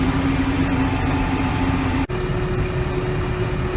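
A small tractor engine idles steadily and fairly loudly, with a constant low hum and a brief dropout partway through, while soybean seedbed preparation pauses.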